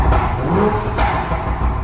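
A Toyota Supra engine revs as the accelerator is pressed, loud and close, the roar rising and falling in short surges through the brief stretch.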